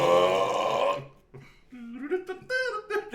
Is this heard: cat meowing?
no